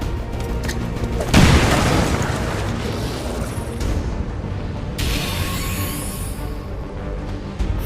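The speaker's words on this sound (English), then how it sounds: "Grenade out." A grenade explosion in the XCOM 2 video game, one loud close boom that decays into a rumbling, debris-filled tail, followed by a second, softer burst of noise.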